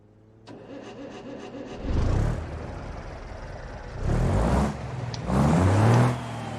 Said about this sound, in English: I think the truck just sounds amazing